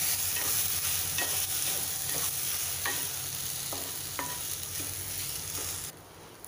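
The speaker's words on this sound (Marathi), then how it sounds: "जिरा छान फुललं आहे, ही धुतलेली भगर घालूया। मिक्स करून घ्यायचं आहे।" Washed barnyard millet is stirred into hot oil with cumin, crackling and sizzling steadily as a utensil scrapes the pan in repeated strokes; the sizzle drops abruptly near the end, no voices.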